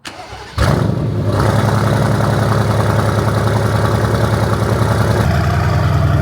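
A Nissan GT-R engine starts with a sharp catch and then settles into a loud, deep, steady idle, close by with no talking.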